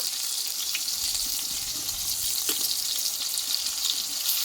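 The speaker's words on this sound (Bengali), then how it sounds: "পটলটা কিন্তু এক পিট আবার ভাজা হয়ে গেছে এবার উল্টিয়ে নেব" Stuffed pointed gourd fries steadily in a pan of hot oil, a continuous close sizzle and crackle with no pauses and no voices.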